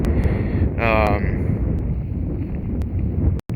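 Steady low wind rumble buffets the microphone throughout, with a brief voice-like tonal sound partway through and a short dropout near the end.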